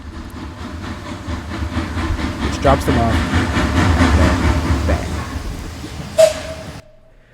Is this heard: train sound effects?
yes